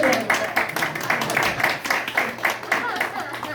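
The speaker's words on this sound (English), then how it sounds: "let's give that guy a big round of applause" An audience at a church kids' play applauds with quick, rhythmic clapping at moderate volume, with a few voices mixed in beneath the claps.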